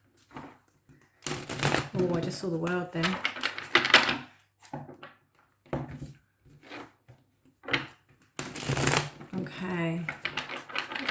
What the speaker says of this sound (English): I'll do 2 more shuffles.